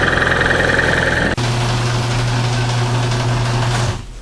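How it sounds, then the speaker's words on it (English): Cold-started engine idling in an unheated garage, a steady loud drone with a fast repetitive lifter tick running through it, the pitch dropping after a short blip and the idle fading near the end. "Hear that lifter kick. That oil not getting to the top."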